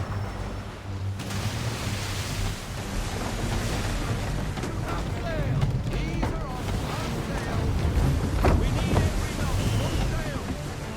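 Wooden sailing ship in Assassin's Creed III running at full sail, a steady wash of wind, rushing water and surf lasting throughout, with creaks and splashes swelling near the end.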